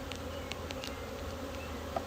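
Honeybees buzz in a steady, quiet drone during a February hive inspection, a faint continuous hum with a few louder passes of single bees near the listener.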